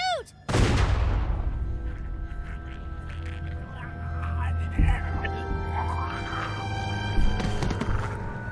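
A gunshot in The Walking Dead Season 2 video game cracks out sharply and loudly near the start, leaving a ringing tail over a low, tense game soundscape with voices talking.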